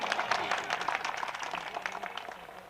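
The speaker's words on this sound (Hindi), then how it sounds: "जोरदार तालियां बजाएं।" Applause from the audience at a ghazal mushaira, a steady wash of many hands clapping that gradually softens over a few seconds.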